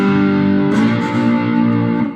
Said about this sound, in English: If you have a lot of distortion on an amp with a slide,